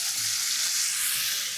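Mustard seeds and spices crackle and sizzle continuously in hot oil, a dense, steady tempering hiss close by with no talk.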